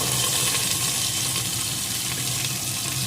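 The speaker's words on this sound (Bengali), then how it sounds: "এখন এই সবজিগুলোকে একটু ভেজে নেব" Cauliflower and mixed vegetables fry in oil with turmeric and salt for a vegetable khichuri, a steady, close sizzle with faint stirring, no voices.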